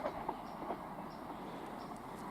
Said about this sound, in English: Good job I didn't want that train, wasn't it? Because it didn't stop.